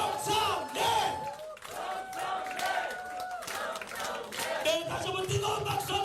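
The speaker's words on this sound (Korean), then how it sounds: "자 이제 정청래 당대표 후보님을 박수로 모셔보겠습니다" A crowd of supporters at a Korean political talk concert in Chungbuk shouts and cheers loudly to welcome a party leader candidate, with chanting voices and a public-address announcer over the steady roar.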